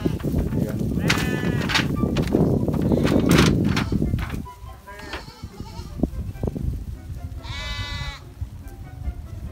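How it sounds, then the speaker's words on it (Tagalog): Flock of sheep at a farm, several bleats rising above rustling and movement noise, some near and loud, with a person talking over them. "Yung mga tupa."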